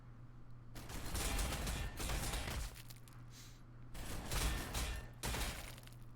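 Ork Shoota Boys open fire in Warhammer 40,000: Sanctus Reach, with two long bursts of rattling massed gunfire, each about one and a half seconds long. A short quieter gap separates them, with a mechanical hum underneath.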